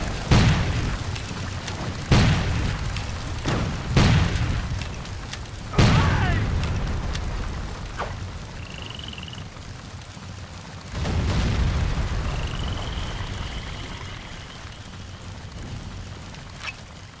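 Explosions blow up a cannon emplacement in a Civil War video game set on the Union side, with several deep booms in the first seconds followed by another heavy blast and a lingering rumble.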